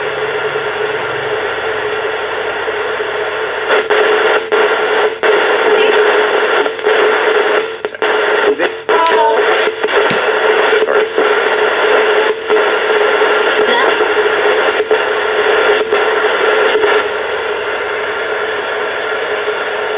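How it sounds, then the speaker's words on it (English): A ghost box radio sweeps through stations with a continuous loud hiss, broken by rapid clicks and brief static bursts, with fragments of chopped voices in the noise. "I'm now going to turn the hiss off."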